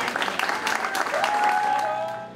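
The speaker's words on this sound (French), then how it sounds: "Une belle photo, un bel applaudissement, bravo Jennifer." Spectators applaud at a hillclimb motorsport event for a production-category racing driver in a Cupra Leon Super Copa MK3, a dense burst of clapping that thins out while a faint tonal sound rises beneath it.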